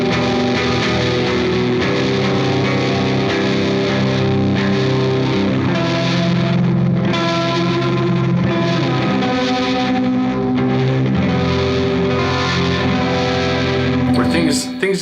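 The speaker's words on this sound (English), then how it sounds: "Then it's got a switch down here, and it can go into dark reverb mode." Electric guitar played through a reverb pedal set to its dark reverb mode, for post-metal and ambient music: sustained, distorted chords wash out in long, murky reverb tails, loud and continuous, with a brief scrape at the end.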